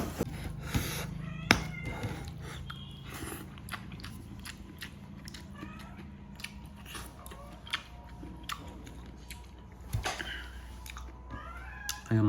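Village cats eat nearby while being fed fish, with soft chewing and crunching interrupted by a few short meows, fairly quiet and close with sporadic clicks and bumps.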